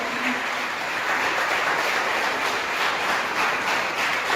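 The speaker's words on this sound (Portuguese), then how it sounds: "Vamos aplaudir esses corajosos?" A church congregation applauding, a steady dense wash of clapping from many hands that holds evenly throughout without pause.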